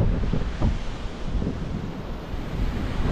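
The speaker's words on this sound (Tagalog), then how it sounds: "Sobrang lakas pa naman ng hangin dito." Strong wind blows outdoors at a scenic spot in Ilocos Norte, a steady, loud roar buffeting the microphone with gusty rumbling throughout and no voices.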